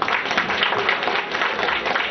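An audience claps steadily at a poets' and writers' gathering and book launch as a guest is welcomed with flowers, a continuous, moderately loud patter with no pauses.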